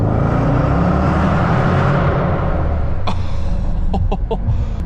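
A 600 hp Manhart-tuned Range Rover Velar SV accelerates hard on the Autobahn, heard from inside as a loud, steady engine and road roar, broken near the end by a few short clicks.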